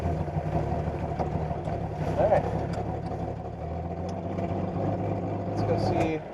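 The Green Hornet, a classic car in a garage, idles with a steady low rumble and faint ticking, running slightly loud and unsettled, while someone speaks briefly nearby.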